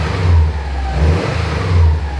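A Subaru car engine with new headers hums and purrs nearby, rising gently in pitch a couple of times as it revs softly.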